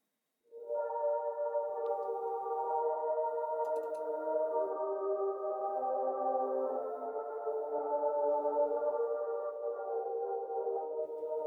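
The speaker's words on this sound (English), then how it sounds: "which is more like a pad from Omnisphere" An Omnisphere synth pad enters after half a second and holds a steady, smooth chord texture at moderate level until the end, with no other sounds.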